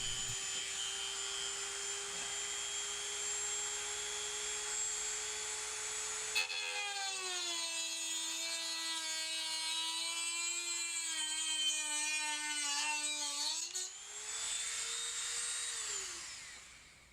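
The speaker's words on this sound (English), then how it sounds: "take your Dremel tool with a cutoff wheel or a hacksaw and cut the heads off" A high-pitched Dremel rotary tool with a cutoff wheel whines steadily, its pitch dropping under load as it cuts wood screw heads, then rising again before spinning down at the end.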